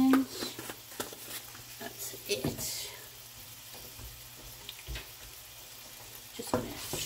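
Onions frying in a pan at home, a soft steady sizzle with brief clatters of a utensil stirring them, close and fairly quiet, with a voice talking over it.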